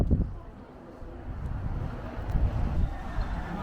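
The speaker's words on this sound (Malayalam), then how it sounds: "നല്ല കാറ്റുണ്ട്" Wind gusts rumble and buffet steadily at low pitch in the mountains of Ladakh, rising and falling in strength over a few seconds, with no voices.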